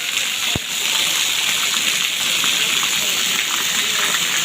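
Heavy rainwater pours off a house roof in Banaskantha, a dense, steady rushing gush close by, with one sharp knock early on and a voice faintly under the noise.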